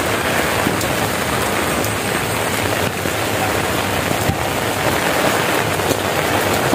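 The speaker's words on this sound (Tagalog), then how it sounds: "grabe ulan" Heavy rain pours steadily on a farm, a dense, continuous hiss of drops drumming on surfaces, loud and unbroken for the whole stretch with no voices.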